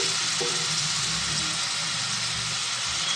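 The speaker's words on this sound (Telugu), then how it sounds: "ఇది కొంచెం బాగా ఫ్రై అయ్యేదాక ఫ్రై చేద్దామండి" Chicken pieces and onions frying in oil in a pan, a steady, close sizzle and crackle running throughout, with faint utensil clinks and no talking.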